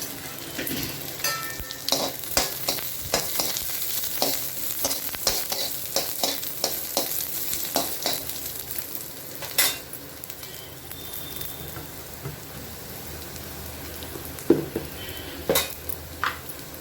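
Dried red chilies and tamarind fry in a pan for a keerai thuvayal, with steady close sizzling under repeated scraping and stirring clinks of a spoon against metal.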